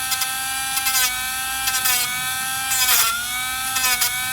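Cheap Dremel rotary tool whines steadily at high pitch while lightly sanding ridges from a curbed Tesla Model 3 alloy wheel, its tone dipping and rising as it touches the rim, loud and close.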